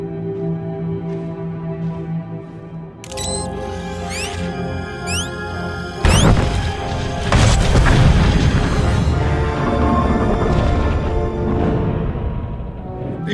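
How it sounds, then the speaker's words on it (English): An explosion bursts in the video game Star Wars: The Old Republic as charges on a ship go off, a sudden loud boom followed by a sustained heavy rumble beneath game music. "The explosion shook the ground."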